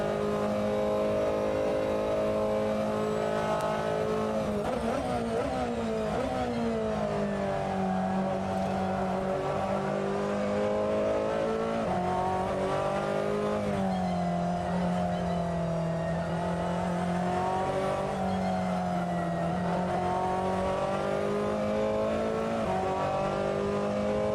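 A Ferrari 488 GTLM race car in Assetto Corsa at Mugello roars steadily for the whole stretch, its engine pitch rising and falling through revs and gear changes, loud and close with no talk.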